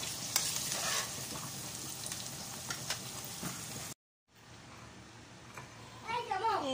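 Sliced large onion for tempering sizzles loudly in hot oil for a vegetable niramish curry, a dense continuous hiss that cuts off, then resumes quieter while someone speaks.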